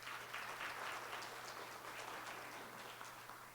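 Audience applause for the Director of the Central Bank of St. Maarten at a government national development forum, a steady wash of clapping with a low constant hum underneath.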